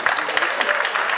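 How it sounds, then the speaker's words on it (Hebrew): Applause from a conference audience at an Israeli urologists' meeting, a brief dense burst of clapping, steady and fairly loud throughout. "כפיים בבקשה"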